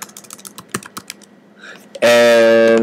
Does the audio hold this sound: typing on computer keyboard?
yes